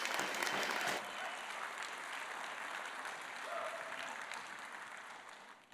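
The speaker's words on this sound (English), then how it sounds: "give these guys a big round of applause" Audience applause at a chiefs' assembly and regional chief election, a loud burst of clapping that eases after the first second into steadier, thinner clapping that fades toward the end.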